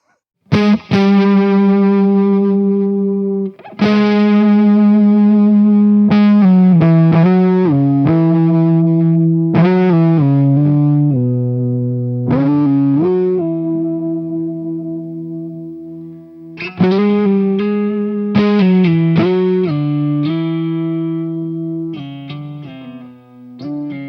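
A distorted Eastman Fullertone electric guitar plays chords and short riffs with sustained, ringing notes and brief pauses, loud and close with a touch of echo.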